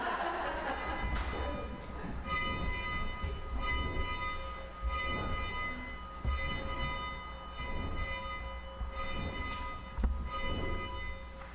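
Church bells ring at a Unitarian Universalist Sunday service in Croton-on-Hudson, sustained overlapping ringing tones with repeated strikes every second or so, steady and fairly loud, with no voices.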